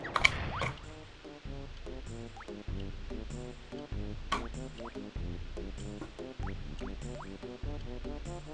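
Banjo the bear drinks water in the Banjo-Kazooie video game, Clanker's Cavern level: repeated gulping, squishy liquid blips in a steady rhythm over looping game music, loud and close, with no talking.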